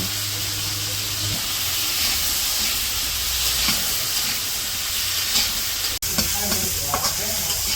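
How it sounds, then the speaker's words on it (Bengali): Potatoes fry in mustard oil with onion and green chillies, giving a continuous close sizzling hiss with occasional stirring scrapes and one sharp click near the end. "এখন হলো আলুর সাথে পেঁয়াজ আর কাঁচামরিচগুলো ভাজা নিতেছে"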